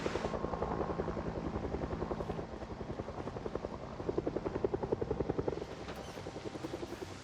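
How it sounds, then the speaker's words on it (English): Helicopter flyover during an event in the zombie survival video game Project Zomboid, a steady rhythmic rotor chop that swells and recedes over several seconds, fairly loud and alone with no talking. "Good news is the fact that the helicopter event stopped."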